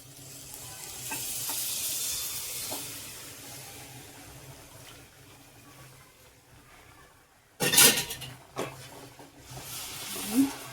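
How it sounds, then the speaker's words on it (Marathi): Coconut milk poured into hot oil and roasted spice masala for a spicy mutton curry, a sudden loud splashing sizzle that flares then settles into softer bubbling and stirring, after a quieter stretch of low frying hiss. "आता हे नारळाचं दूध आहे, हे ह्याच्यात ओतायचं आहे."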